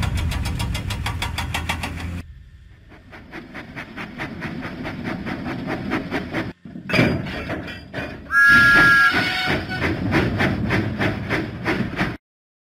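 Cartoon steam locomotive puffing out of the docks in a children's video game, with steady rhythmic chuffs and engine noise, a brief pause, then a short whistle-like tone before the chugging resumes.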